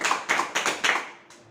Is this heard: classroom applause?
yes